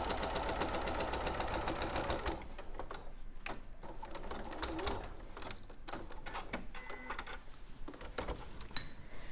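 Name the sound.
sewing machine stitching cotton bag pocket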